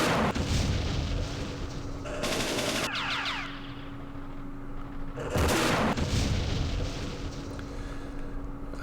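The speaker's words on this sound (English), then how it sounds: "Let's soften him up with the recoilless rifles and the machine guns first." Recoilless rifles and machine guns fire in the Campaign Series Vietnam wargame: loud bursts of rapid automatic fire and heavy booming shots, with two intense volleys separated by rumbling, close and dense.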